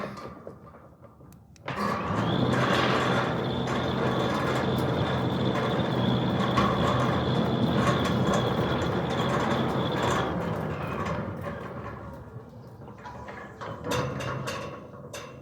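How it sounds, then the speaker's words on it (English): A Centurion D6 Smart sliding gate motor running at a home installation in Impala Park, Boksburg, a steady mechanical hum with a whine that starts abruptly, holds for several seconds, then fades as the gate stops. "the gate motor is running like a dream"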